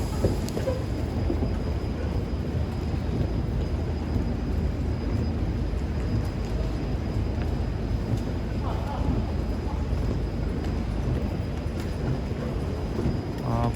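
A KTX high-speed train arriving at Seoul Station, a steady low rumble of rolling stock on the platform with a faint high whine, while someone talks nearby.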